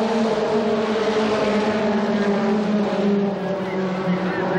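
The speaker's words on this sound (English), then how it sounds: "the stock fours here at Wnchester Speedway. The green flag is out and we are racing" Stock four cars racing at Winchester Speedway in 1993, a dense, continuous roar of several engines droning together at full throttle close by, with no break.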